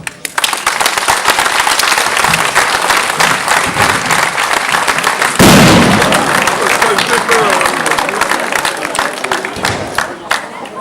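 Loud, sustained applause and crowd noise at the opening of the 2012 Saint-Jean festivities in Monteux, with a sharp firecracker burst partway through and people talking underneath.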